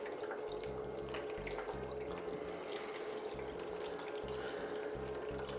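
Water pours steadily into a gold cleanup sluice, a continuous trickling and splashing flow with a faint rhythmic mechanical pulsing underneath, heard close and alone without talk.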